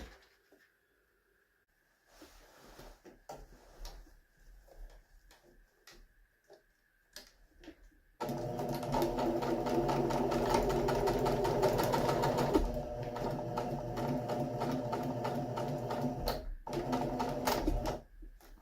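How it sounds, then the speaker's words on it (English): A sewing machine stitches across a box cushion zipper. Scattered soft clicks and handling noises come first, then the motor runs loud and steady for about ten seconds with a rapid, even needle rhythm before slowing. "when I stitch across here, I stitch deep enough so that my stitch overlaps my zipper"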